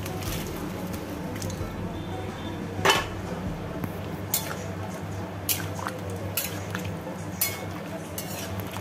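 Boiled bottle gourd is stirred into spices in a pan for lau shukto, with soft squelching mixing under a low steady hum and a few sharp clinks of a utensil against the pan.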